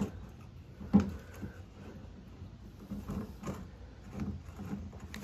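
A pinion gear being screwed onto a Honda HRX217HYA self-propelled mower gives quiet, close metallic clicks and faint rattles, with one louder knock early on.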